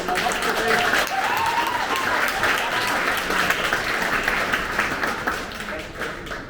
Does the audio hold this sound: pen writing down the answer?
no